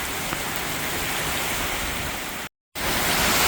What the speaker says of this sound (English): Or at least the rain has started again.